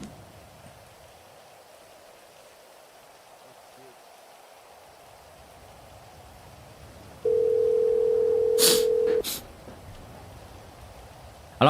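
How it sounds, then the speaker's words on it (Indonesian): Steady telephone dial tone during a call, a loud continuous hum lasting a couple of seconds over a faint rustling background, followed by a brief sharper click-like burst. "Telepon lagi Pancep. Telepon Pancep."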